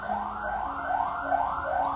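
An ambulance siren passes outside with a steady, repeating wail whose pitch rises and falls in even cycles. It is moderately loud against a constant background hum, and no voices are heard.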